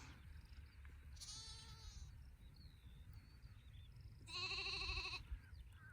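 Sheep ewes bleating on a farm on Fair Isle, two distinct calls, the second louder and closer, over steady wind and outdoor ambience.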